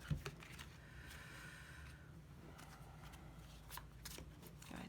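Tarot cards riffle and shuffle close by in a soft, continuous rustle. The sound is faint and quiet, with no talking.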